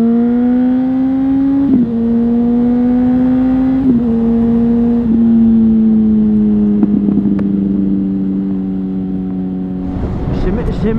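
A vehicle engine revs loudly and close, its droning tone stepping up and easing down in several stages, with gusty wind noise rising at the end in open fields.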